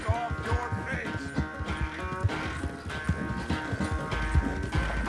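Horse hooves clip-clopping in Red Dead Redemption 2, a steady patter of hoof falls running under a bed of game music and occasional voices.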